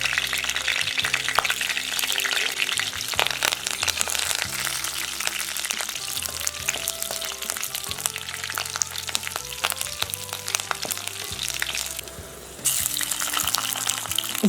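Green chillies and curry leaves frying in oil in a pan, a continuous close sizzle with stirring and scraping against the vessel, briefly dipping quieter before resuming.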